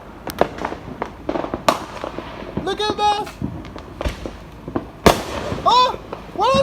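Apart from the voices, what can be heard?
fireworks exploding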